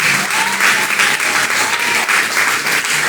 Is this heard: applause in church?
yes